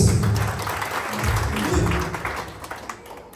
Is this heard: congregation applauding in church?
yes